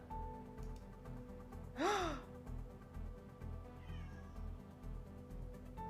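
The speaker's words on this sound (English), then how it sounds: "If you can't hear my cat meowing, she's extremely upset that the door is closed" A pet cat meows once, loud and fairly close, with a rising-then-falling cry over steady game music and ambient background; a fainter second meow follows a couple of seconds later.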